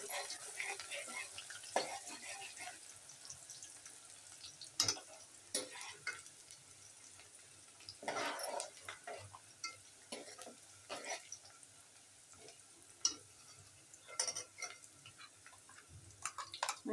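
Chopped onion dropped into hot oil with bay leaf and curry leaves in a home kitchen pan, giving a quiet, continuous sizzle broken by intermittent clicks and scrapes of stirring.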